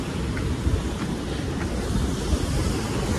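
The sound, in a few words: sea waves and wind on the shore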